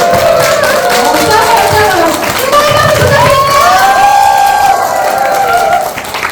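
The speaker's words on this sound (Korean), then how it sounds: "정말 뜨거운 박수 다시 한 번 부탁드립니다" A seated audience at a business seminar claps and cheers. The applause sits under a presenter's amplified voice, which runs through most of the stretch.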